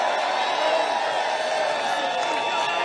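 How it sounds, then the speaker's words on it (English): A large crowd at a Trump rally in the Bronx keeps up a steady, loud roar of cheering and shouting, with no breaks over the whole stretch. "Look at that crowd."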